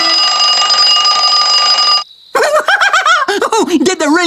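Wind-up alarm clock rings loudly and continuously for about two seconds, then cuts off abruptly, followed by a brief mechanical whir and then lively, expressive cartoon voices talking and exclaiming.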